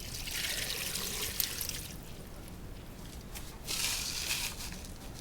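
Liquid poured into a couscous pot holding carrots, turnips, celery, tomatoes and white cabbage, a soft steady trickling splash with a brighter surge of pouring near the end.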